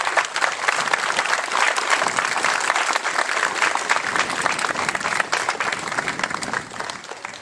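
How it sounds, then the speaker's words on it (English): An outdoor Memorial Day service audience in Blawnox, Pennsylvania, gives a sustained, dense round of applause, loud and even throughout with a slight tapering in the final seconds. "a nice round of applause"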